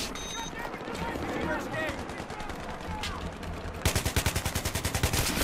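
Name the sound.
gunfire in the video game Battlefield 3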